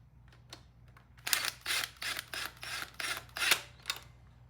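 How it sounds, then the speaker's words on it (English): Bolts on a Norton motorcycle timing cover are tightened by hand, a close series of short ratcheting clicks in quick bursts, about eight rattling pulses over a few seconds. "I always start at the bottom and tighten them up like this"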